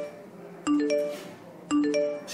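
A pair of bright two-tone notification chimes, one after the other about a second apart, sounding clearly over a faint background hum with no talking.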